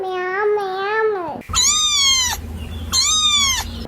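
A voice imitates a cat, giving two drawn-out meows followed by a third, close and clear.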